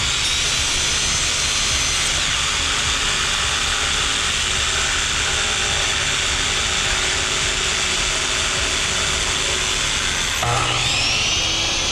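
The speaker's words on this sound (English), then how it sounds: "I follow the shape of the molding with the jigsaw" A jigsaw cuts along the shape of a wood molding, a loud, steady buzzing whine that runs unbroken and close throughout, and its pitch shifts briefly near the end.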